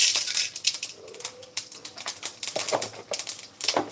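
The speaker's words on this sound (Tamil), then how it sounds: "கடுகு போட்டாச்சு உளுத்தம் பருப்பு போட்டுக்குவோம்" Mustard seeds crackle in hot oil during tempering for a bottle gourd stir-fry, a close, irregular run of sharp pops and snaps, some clustered and some isolated, over a quiet background with no talking.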